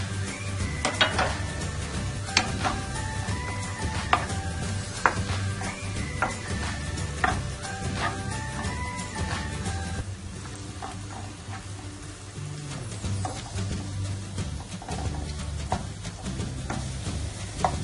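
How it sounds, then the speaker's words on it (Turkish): Vegetables sauté in a pan for a spinach and borlotti bean dish, with a continuous close sizzle and repeated metallic clinks and scrapes of a spoon against the pan during the first half. "Bunları da bir güzel kavuralım"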